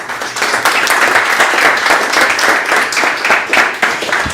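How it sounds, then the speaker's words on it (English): After the Q&A at a tech talk on Couchbase and Spring Boot, the audience breaks into loud, steady applause for the speaker, with a dense patter of many hands that lasts throughout. "Big applause for him."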